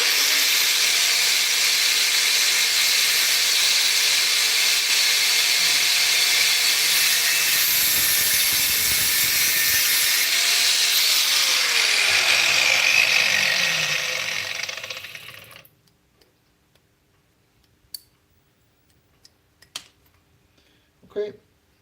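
A power tool cuts through wire for an oil gun pilot, giving a loud, steady, harsh whine that runs for about fifteen seconds and then stops, followed by quiet with a few faint clicks.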